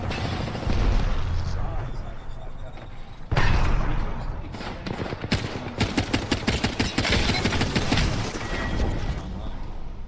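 Rapid bursts of gunfire in a multiplayer shooter game, with loud repeated shots and booms crowding the second half over ongoing player talk.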